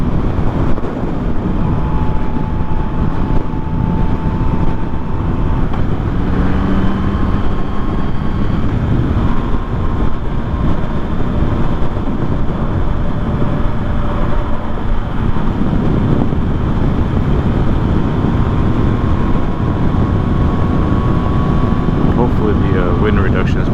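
Continuous loud wind roar from a 2024 Yamaha MT-09 motorcycle riding at highway speed around 85, with broadband buffeting dominating throughout, engine tones faintly beneath and a voice talking over it.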